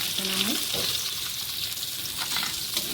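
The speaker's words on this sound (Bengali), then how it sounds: "হালকা ভাজবো।" Chapila fish sizzle steadily in hot oil as they lightly fry, giving a continuous, close, fairly loud crackling hiss with no one speaking.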